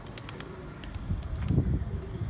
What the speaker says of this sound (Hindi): इधर आकर बैठ गए दो कबूतर में